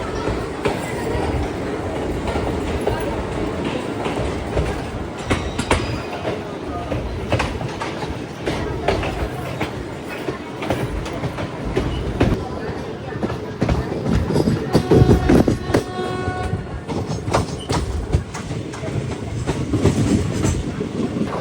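Train rolling on rails through Maharashtra into Telangana, heard from inside as a continuous rumble with repeated clickety-clack wheel beats and a brief squeal midway, steady and fairly loud.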